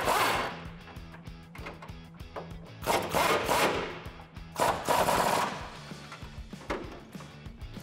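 A shock top bolt being tightened with a bent 21 wrench while fitting a ReadyLIFT suspension lift with Bilstein 5100 shocks on a Ram 1500 pickup, heard as bursts of rapid ratcheting clicks separated by short pauses.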